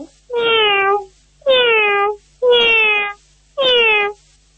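A child imitates a cat, giving four drawn-out, loud meows in a steady rhythm with short pauses between them.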